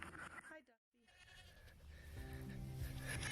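A goat on a farm bleats loudly nearby, with a brief gap of silence, then more wavering bleats build toward the end.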